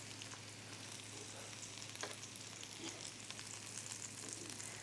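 Vegetarian bacon frying in a pan and being turned, a soft, continuous crackling sizzle heard faintly throughout.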